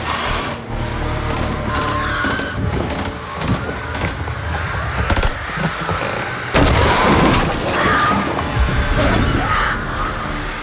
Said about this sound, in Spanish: ¡Disparos!